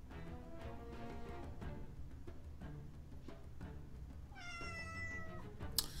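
A cat meows several times at moderate distance, a series of drawn-out tonal cries with a higher, stretched wail near the end, heard against faint background noise with no talk.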